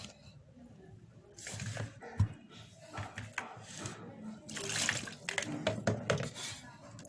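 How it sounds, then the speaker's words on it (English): Water splashes and trickles into a blender in uneven bursts, with clinking and handling noises nearby and a voice talking softly underneath. "I'm going to add just few water to it, not even half of it, then cover it."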